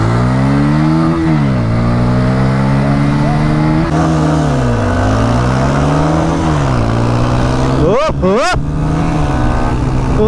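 A Bajaj Pulsar N150 motorcycle engine revs loudly up and down while being ridden, its pitch rising and falling through gear changes with sharp rev spikes near the end, a voice calling out briefly.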